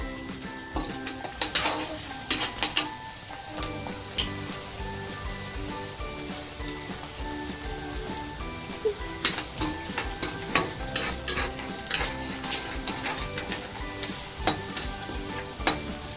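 Cumin and mustard seeds sizzle in hot oil alongside onion frying in a pan for a Maharashtrian sandge curry, a steady crackling hiss with sharp pops and occasional stirring scrapes throughout, no voices.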